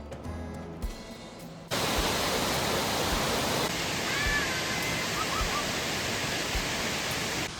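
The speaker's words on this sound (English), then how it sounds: "a powerful 45-foot cascade that tumbles over a wide rock ledge into a hidden basin below" Middle Falls at Hills Creek, a 45-foot cascade tumbling over a wide rock ledge into a basin, roars as a loud, dense, continuous rush that swells in partway through.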